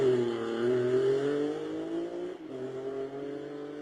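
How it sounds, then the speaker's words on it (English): A BMW rally car fitted with a Jaguar engine races uphill at Rally Barbados, its engine a steady sustained roar that climbs in pitch and then drops briefly as it shifts gear, loud and close with no talking. "Fantastic sounding Jaguar engine BMW there."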